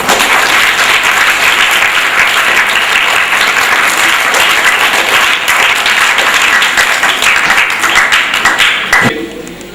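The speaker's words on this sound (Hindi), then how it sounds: "अब तालियां बजा सकते हैं" A large audience claps long and loud at a centenary celebration in a gurukul in Hisar, the dense applause holding steady before fading out.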